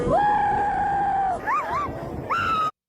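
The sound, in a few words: people screaming while falling off skateboards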